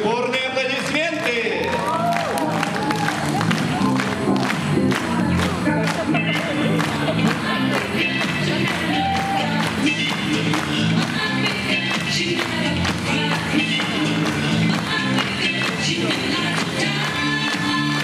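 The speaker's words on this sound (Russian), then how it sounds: "Ваши бурные аплодисменты" Audience applause at a family talent show, sustained clapping with cheers and shouts mixed with loud music and voices in the room.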